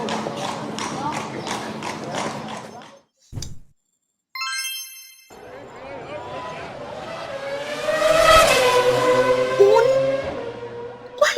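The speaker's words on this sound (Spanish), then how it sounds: "¡Un auto de carrera!" A race car engine roars in after a short silence, building to a loud, rising whine that swells and peaks before easing, preceded by unrelated clattering and tonal sounds.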